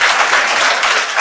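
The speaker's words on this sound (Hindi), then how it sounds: "आपके लिए भी तालियां" Audience applause in a hall during a congratulation ceremony for newly selected officers, a dense, steady wash of many hands clapping at full volume throughout.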